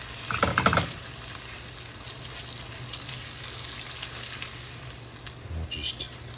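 An egg fries in a pan beside bacon, a soft continuous sizzle with a brief louder rustle or clatter at the start and a small knock near the end, no voice heard.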